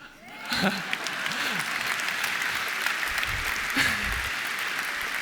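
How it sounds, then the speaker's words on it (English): Audience applause at a talk, a continuous roomful of clapping with a few louder individual claps and brief voices or whoops poking through, steady and close throughout. "That should get a round of applause"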